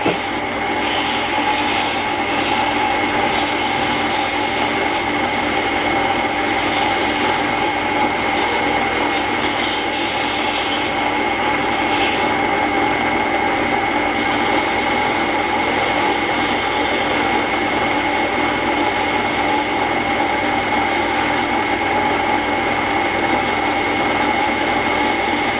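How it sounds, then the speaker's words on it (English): Sandpaper on a wooden pen blank spinning on a lathe, worked through grits from 80 to 400, makes a steady, continuous whirring hiss for the whole stretch with no talk over it. "From here, it's simply a matter of sanding it."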